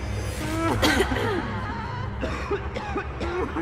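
A few harsh, rasping coughs in quick bursts over a low background rumble, close and fairly loud.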